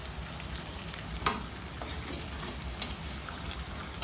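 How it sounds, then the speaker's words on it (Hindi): Spices stirred through hot oil for chicken karahi, a steady close sizzle and frying hiss with a few light scraping stirs, no talk. "हमने इसमें अपने सारे स्पाइसेस डाल दिए और इसको अच्छे से मिक्स कर लिया।"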